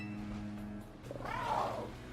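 A Pokémon cry in Pokémon Scarlet, a lizard-like call with a cat-like quality, rising into a warbling, slightly rasping tone over a low steady game hum, fairly faint and heard alone.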